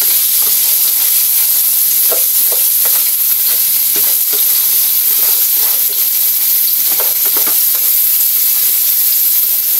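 Shrimp, crab and squash frying in a pan, Filipino ginataang hipon, alimasag at kalabasa in preparation, a loud steady hiss of sizzling with faint stirring scrapes underneath throughout.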